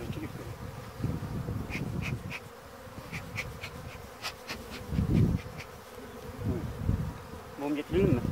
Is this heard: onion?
no